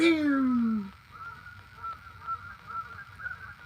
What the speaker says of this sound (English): there's a goose over here yelling at him too